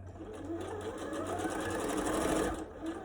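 A sewing machine stitches the top seam of a fabric mask, giving a steady, close mechanical whir with a fast rapid clatter that runs nonstop for about three seconds before it slows.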